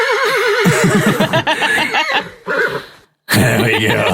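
A horse whinnies loudly and close, a long wavering neigh followed by snorts and rougher calls, with a short spoken phrase near the end.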